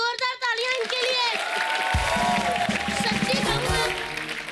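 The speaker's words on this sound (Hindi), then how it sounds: "बॉबी जी, जोरदार तालियां इनके लिए" An audience at an Indian TV comedy show bursts into strong applause for Bobby, a dense burst of clapping that starts partway in and holds steady under hosts talking and laughing over it.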